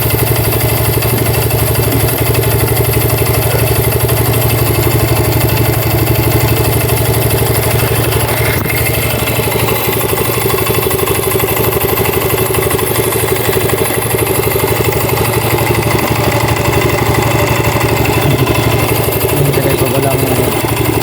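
A motorcycle engine runs at a steady idle after an oil seal replacement at the pulley, a continuous close mechanical hum with light clatter that carries unchanged throughout.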